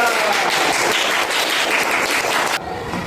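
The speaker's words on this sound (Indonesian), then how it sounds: "Tepuk tangan untuk kelompok 3." A classroom of primary-school pupils applauds a student group with dense, steady clapping that fills the room, then drops off abruptly near the end.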